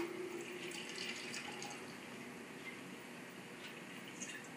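Warm water, around body temperature, poured from a tap or measuring cup to activate instant yeast for blueberry sticky buns; a steady, soft rushing flow runs through the whole moment with no talk.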